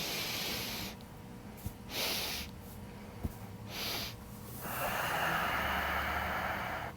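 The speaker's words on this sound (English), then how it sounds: "so inhale through the nose" A person lies with hands on the abdomen and takes slow breaths in through the nose during a three-part deep-breathing exercise; several airy nasal inhales and exhales come in rhythmic waves, close and fairly soft, with no talk.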